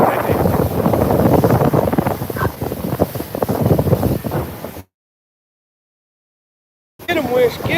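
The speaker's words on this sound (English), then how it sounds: "Everyone knows it's windy." Loud, buffeting wind rumbles against the microphone, then drops to dead silence before gusting back in.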